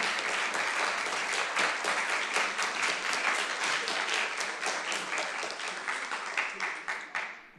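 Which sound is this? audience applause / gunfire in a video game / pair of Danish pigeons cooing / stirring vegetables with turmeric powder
audience applause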